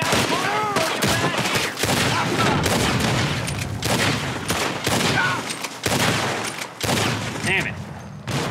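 Dense gunfire from a Red Dead Redemption 2 shootout fills the scene with repeated loud shots and booms, overlapping with voices and game ambience throughout.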